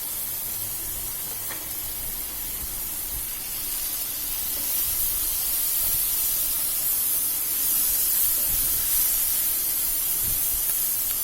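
Tomatoes tipped into a hot pan of onions set off a loud, continuous hissing sizzle that holds steady and swells slightly louder partway through, with no voices.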